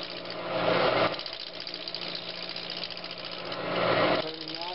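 A wood lathe turns a vase blank made from scrap wood at slow speed, around 700 RPM, with a steady droning hum and tool chatter that swells at the start and end, loud and close throughout.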